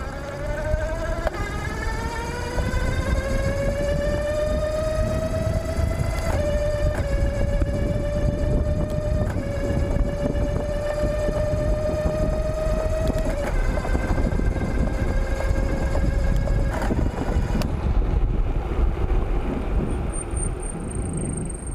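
A 48V 2200W mid-drive electric bike whines steadily as it rides in its lowest gear, a rising motor tone with harmonics that steps up and down with shifts, over continuous road and wind rumble.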